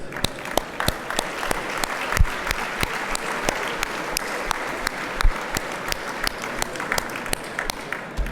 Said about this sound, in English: please accept our applause for supporting a great event